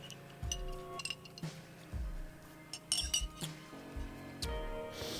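A metal reusable straw clinks and rattles against the glass of an iced coffee, a series of bright taps and scrapes with ice shifting, close and fairly quiet over a low background hum.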